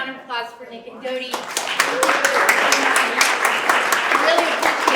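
Audience applause at an arts-community town hall, a steady wash of many hands clapping that swells in after a brief stretch of talk and continues loudly to the end.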